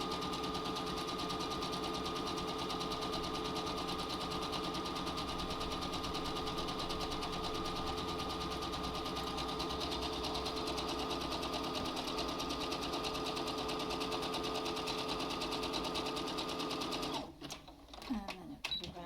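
A sewing machine runs a steady, continuous zigzag stitch along the bottom half of a cloth face mask piece, then stops abruptly near the end, leaving brief handling noises.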